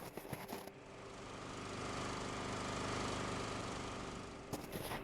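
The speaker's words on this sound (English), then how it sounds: "I don't think this drill's doing anything right now" A power drill in the space-station terraforming game Blossom: The See runs with a steady, dense mechanical drone that swells slightly, then cuts off abruptly after about four seconds.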